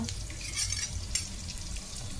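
Fenugreek, mustard and cumin seeds fry in hot oil with a continuous soft crackling sizzle and occasional stirring scrapes, fairly quiet and without speech.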